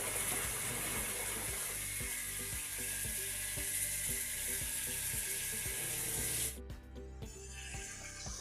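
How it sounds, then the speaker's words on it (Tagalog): Loud steady sizzle of fish frying in hot oil, with occasional clinks of utensils; the sizzling cuts off abruptly near the end. "Kaya ayan, prito-prito tayo ng isda."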